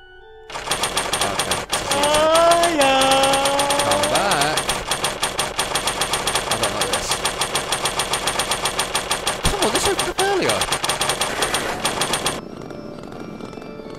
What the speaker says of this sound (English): Yeah, that sounds like a chainsaw.